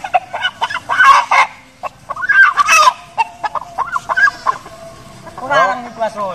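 Chickens, fighting cocks among them, cluck and squawk loudly and close by in a busy run of calls, with a rooster's crow near the end and a few voices faintly mixed in.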